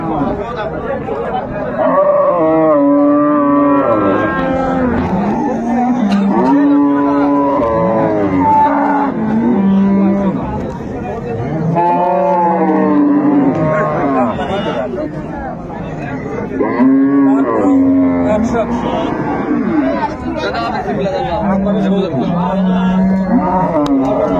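Improved-breed dairy cows and calves at Raniganj cattle market in Dinajpur moo in long drawn calls, several in a row, amid the loud chatter and babble of a busy crowd.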